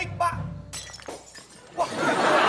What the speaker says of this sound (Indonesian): Ada pecah kayaknya. Apa yang pecah?